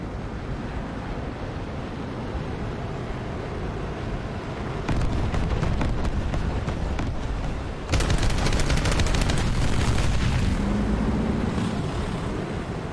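Naval cannons fire in a tank and naval combat video game. Heavy broadband blasts swell in at two points over a continuous roar of sea and engine noise, and no voices are heard.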